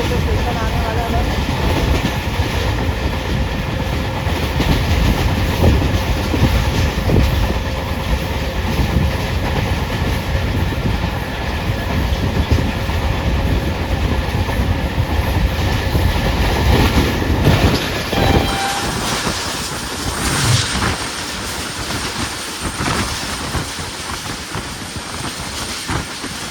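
The Allama Iqbal Express passing close by, a loud, continuous rumble of railcars with clickety-clack and hiss that shifts tone near the end as the train goes by.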